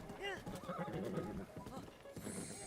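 Horse in the video game Zelda: Breath of the Wild neighs and whinnies over clip-clopping hooves, with game music and ambient sound throughout, close and fairly loud.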